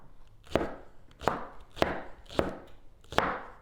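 Five firm knife chops through onions on a cutting board, spaced roughly half a second apart, each a sharp close thud with a brief crunchy tail, no voices.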